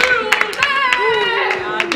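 Friends clapping and cheering on a player during a live gaming session, scattered sharp claps and whoops mixed with excited voices close to the microphone.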